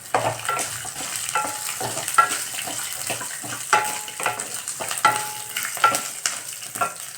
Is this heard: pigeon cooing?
no